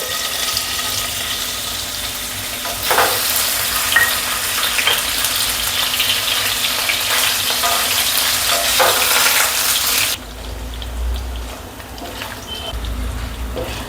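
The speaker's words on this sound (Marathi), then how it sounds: "मी आता दोन पळी तेल टाकते मी आता पनीर थोडंसं लालसर होऊ देते" Paneer fries in two ladles of oil in a pan with a steady close sizzle and bubbling, then the noise drops suddenly to a softer low rumble near the end.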